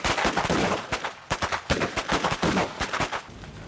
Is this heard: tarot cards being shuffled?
no